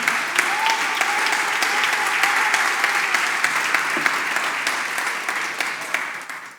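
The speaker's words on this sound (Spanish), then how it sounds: "Denles aplauso al Señor." A church congregation bursts into loud, sustained applause, a dense wash of many hands clapping steadily throughout, with faint voices or a brief tone mixed in beneath.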